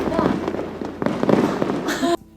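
Fireworks bursting at close range, a dense run of crackling pops and booms through the whole stretch, loud and busy, with people's voices mixed in before the sound cuts off sharply near the end.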